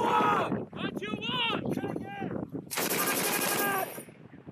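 M240B machine gun live fire on a U.S. Marines range, rapid bursts of automatic shots close to the microphone with wind noise, while people shout and talk between and over the bursts.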